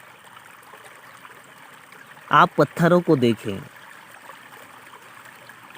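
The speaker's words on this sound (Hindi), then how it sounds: "आप इस बहते हुए झरने के कल कल छल छल की आवाज़ को सुनें।" A flowing waterfall murmurs in a steady, continuous wash of water throughout, with a calm voice speaking briefly over it midway.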